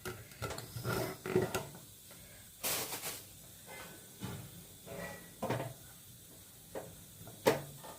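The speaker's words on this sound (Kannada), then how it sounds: "ಕುಕ್ಕರ್ ಮುಚ್ಚಳ ಮುಚ್ಚಿಬಿಡೋಣ ಈಗ." A pressure cooker lid is pushed shut over a pot of sambar, giving a few separate metallic clunks and scrapes with soft hiss between them, close by and fairly quiet.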